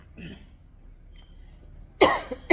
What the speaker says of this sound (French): Voilà, je tousse.